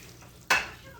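Peppers and onions stirred in a hot frying pan, a sudden scraping sizzle bursting in halfway through and fading into a steady crackle, close and alone.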